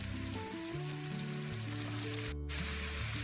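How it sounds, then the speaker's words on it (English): Onions with crushed ginger and garlic frying in hot oil for Hakka noodles, a steady dense sizzle that holds close and loud throughout, with no talking. "Once the oil is hot, I'm going to add the onions."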